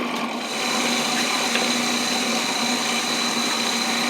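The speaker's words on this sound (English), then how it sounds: "Food processor, I'm going to go ahead and turn it on." A food processor whirs steadily at full speed, loud and continuous, as it purées cooked cauliflower for a pizza crust.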